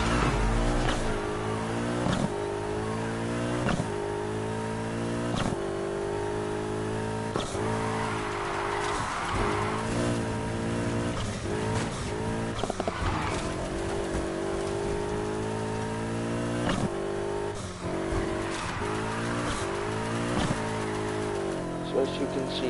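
Race car engine in Need for Speed Heat, revving and shifting through gears in repeated rising sweeps, loud and continuous, with someone talking over it.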